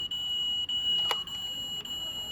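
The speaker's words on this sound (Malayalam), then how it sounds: "സക്കർ ഉപയോഗിച്ച് ഡോർ ഓപ്പൺ ചെയ്യുന്നുണ്ടെങ്കിൽ കണ്ടോ ഒരു അലാം സൗണ്ടൊക്കെ കേൾക്കും" A toy diecast SUV's door alarm: a steady high electronic tone sounds throughout, with a brief beep-like burst near the middle; no talking.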